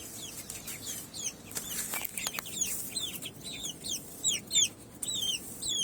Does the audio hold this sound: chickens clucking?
yes